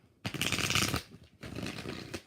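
A tarot deck is shuffled twice in close, crisp bursts of riffling card noise, each about a second long, with a short pause between them.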